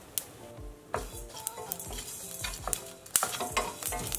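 Coriander and cumin seeds dry-roasting in a pan for idli sambar, with a spoon steadily scraping and stirring against the metal and a faint sizzle underneath, close and continuous with occasional sharper clinks.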